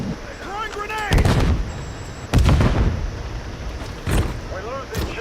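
Grenade blasts and gunfire in a first-person shooter game boom in heavy, loud bursts a few seconds apart, with rattling shots and in-game voice chatter around them.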